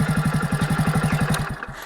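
A motorbike engine runs nearby in a fast, even putter of rapid exhaust pulses, then fades and stutters out near the end, with no talk.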